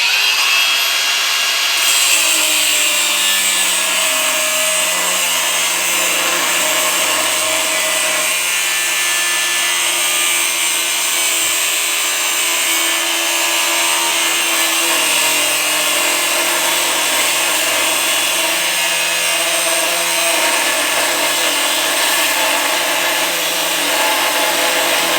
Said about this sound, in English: Our angle grinder with our cutting blade on.